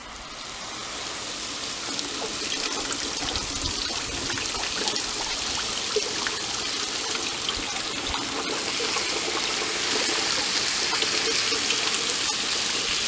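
Steady water spray and trickling over freshly harvested hydroponic white potatoes grown in rice hulls, rinsed outdoors on a deck; a continuous, fairly close hiss of running water with no talk.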